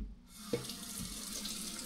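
Water runs steadily from a tap into a container, a quiet, even hiss and splash that starts after a brief near-silent moment.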